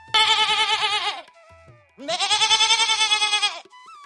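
Two long, loud goat bleats from a story cartoon, each a wavering, harmonic cry about a second long with a short quiet gap between them, close and clear with no talking.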